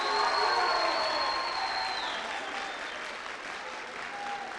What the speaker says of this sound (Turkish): Kendinizi bir alkışlar mısınız?